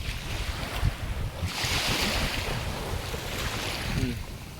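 Sea waves wash onto a beach at SBMA, a soft rushing surge that swells and recedes, mixed with gusty wind noise against the microphone and heard fairly faintly.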